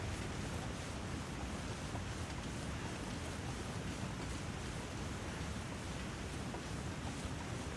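Waterfall rushing in the video game The Long Dark, heard as a steady broadband roar of falling water, constant and unbroken throughout with no talk.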